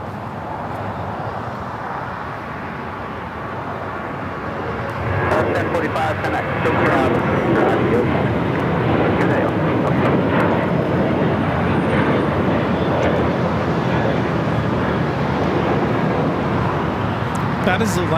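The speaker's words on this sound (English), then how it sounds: "That is Alaska Airlines 1045 taking off to Guadalajara on the 737-800." An Alaska Airlines Boeing 737-800 takes off at LAX, its jet roar swelling after a few seconds into a steady broadband rumble that holds to the end, with voices over it.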